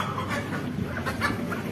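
Adult chickens, about three months old, cluck softly in a farm setting, a few scattered, fairly quiet clucks over a low background murmur with no speech.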